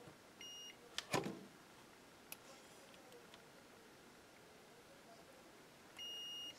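Two short electronic multimeter continuity beeps, one near the start and one at the end, steady high tones over quiet room noise, with faint clicks between.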